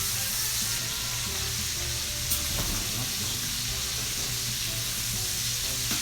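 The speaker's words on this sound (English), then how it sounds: "So I'm just going to brown the sausage a little bit" Sausage browning in a hot frying pan, a dense continuous sizzle with occasional soft clicks of stirring, steady and close, with no talk.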